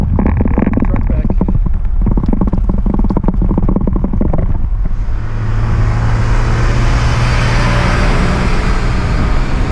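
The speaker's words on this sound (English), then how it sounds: "Truck back." A truck comes up from behind on a road and roars past, loud and close, its engine and tyre rumble swelling then giving way to wide broadband rushing wind and road noise; a voice speaks briefly early on.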